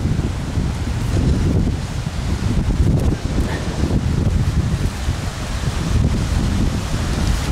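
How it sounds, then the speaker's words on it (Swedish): Strong wind roars steadily into the microphone with gusty rumbling buffeting throughout, at a riverside salmon fishing spot at Bergeforsen. "Fan vad det blåser."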